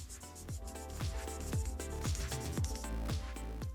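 A nail buffer rubs back and forth around the cuticles of a fingernail in quick, regular strokes, about two per second, close-up and steady with a soft abrasive swish and no talking.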